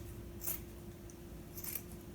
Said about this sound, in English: along the seam where the sleeve is sewn on to your t-shirt, you're going to cut along that seam like so.